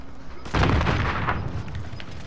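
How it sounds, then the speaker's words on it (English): Gunfire in a multiplayer shooter video game: a sudden loud burst of shots and booming impacts that rings on for over a second, then fades into quieter rumble. "he's shooting me there"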